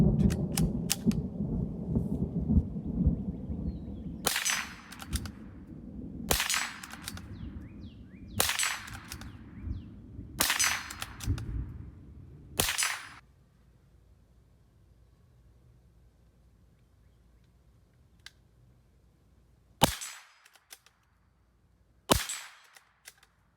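A Ruger Precision Rimfire .22 LR rifle fires a handful of sharp, spaced shots, the first several evenly paced over a bed of background rumble, then two more isolated cracks after a quiet pause.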